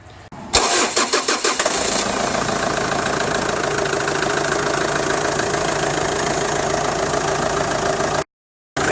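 A Ford Ranger engine with a 5R55S/5R55W automatic transmission cranks and starts, then idles steadily and loudly up close as the gears are selected, before cutting off abruptly near the end.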